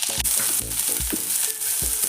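Small onions and green chillies frying in a pan, a loud continuous sizzle with repeated low stirring thumps at a steady pace, close by and without talk.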